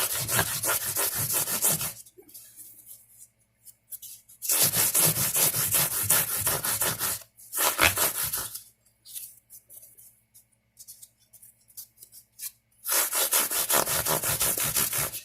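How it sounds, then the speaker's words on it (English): A fret crowning tool sanding and polishing guitar frets and fretboard with 180 grit, several close rasping back-and-forth strokes in bursts separated by short quiet pauses. "It also polishes and sands your fretboard very nicely."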